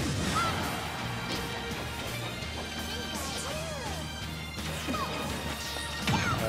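A down smash attack landing in a Super Smash Bros match, a sharp game impact and crash effect over busy gameplay sound effects and tournament commentary voices, bursts recurring through a steady loud background.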